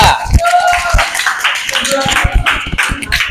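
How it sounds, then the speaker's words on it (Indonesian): Junior high school class clapping for a student group in a lesson, a ragged burst of close claps in uneven rhythm with voices talking over them. "Oke, tepuk tangan buat kelompok 2."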